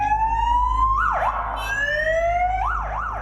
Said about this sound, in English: The officer was on his way to test the sirens on his motorbike